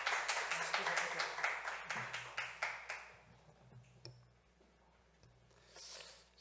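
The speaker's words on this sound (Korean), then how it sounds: "우리 목사님 환영하는 마음으로 박수로 한번 환영했으면 좋겠습니다." A church congregation applauds to welcome a pastor, with a few seconds of sharp clapping that fades out. Quieter sounds follow, and some voices can be heard.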